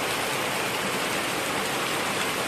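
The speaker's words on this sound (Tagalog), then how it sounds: "Ulan pa din. Ang lakas," Heavy rain pours down in a dense, unbroken hiss, loud and close, with no voices.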